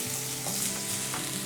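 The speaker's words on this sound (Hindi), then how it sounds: "गार्लिक 2 टीस्पून के करीब, है ना। इसको भूनेंगे आराम से" Minced garlic fries gently in oil in a pan, a close, even sizzle that runs steadily through the short stretch, with a soft low hum beneath and no speech.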